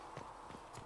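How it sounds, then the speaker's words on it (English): Horse hooves in the game Dragon Age: Inquisition clip-clop in a steady, unhurried rhythm over a constant low background hum, with no talking. "We got horses here now, though."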